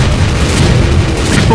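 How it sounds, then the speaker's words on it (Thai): Cartoon blast sound effect from a toy robot firing in an animated battle, a loud dense booming burst that fills the whole moment with rumbling noise. "ยิงไปอย่างนั้นนี่ไงเจ้าเซเลนเฮดหัวอาร์ทอยต่างๆรีบจัดการมันเร็ว"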